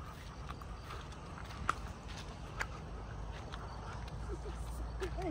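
Horse hooves clip-clop on a path at a slow, uneven walking pace, faint and somewhat distant, with a couple of sharper knocks amid soft outdoor background noise.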